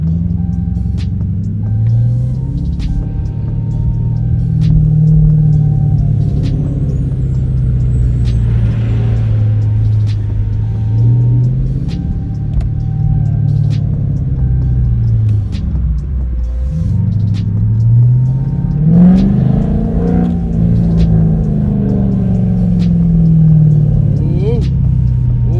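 A 2016 Dodge Charger RT+ with quad tips and straight-piped exhaust rumbles loud and deep from inside the car with windows down in traffic, its note swelling and falling in repeated waves as it accelerates and eases off.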